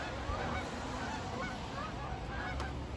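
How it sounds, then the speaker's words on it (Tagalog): Flock of wild geese flying overhead on a cold day, scattered faint honks calling out repeatedly over a steady background hiss. "Ang dami pong dumadaan ng mga ibon. Yan. Mga wild goose."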